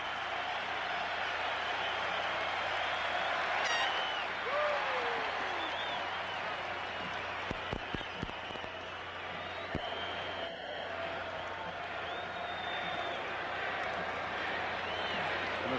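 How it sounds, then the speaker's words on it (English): A baseball stadium crowd at a 1991 World Series game between the Minnesota Twins and Atlanta Braves roars steadily in the 7th inning, a dense continuous wash of cheering with scattered whoops and a few sharp claps. "This crowd wants the 3rd out here in the 7th inning."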